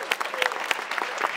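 Audience applause at a film industry pitching event, a steady patter of claps from a hall crowd, moderately loud and continuous with brief peaks; a voice briefly heard over it.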